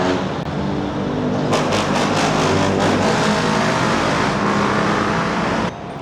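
Traffic at a Petron gas station where many motorcycles pass, with a continuous close engine roar that swells and revs, a few passing bursts, and no talk.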